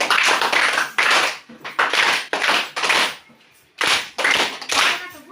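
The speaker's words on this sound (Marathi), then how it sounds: "एकदा तीन टाळ्या वाजवून अभिनंदन करायचे" A group of students claps together in a classroom, several bursts of loud, sharp applause in quick rhythmic sets with brief pauses between them.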